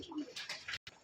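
Pigeon cooing from high flyer male pigeons kept for sale in Nagercoil, a few soft close coos over faint background noise, ending with a brief silence.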